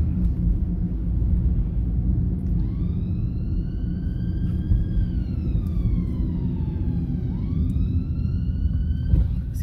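A wailing ambulance siren rises and falls in long sweeping tones over a steady low road rumble on a London road, fairly close and continuous.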